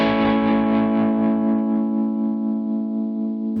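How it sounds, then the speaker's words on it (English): A Ratajczyk Cream Reverb guitar amp plays a sustained, distorted chord through its built-in tremolo, with reverb switched off. The tone rings loud and fairly steady, its brightness fading as the chord decays, and no one speaks. "The tremolo that's built into it is also very nice."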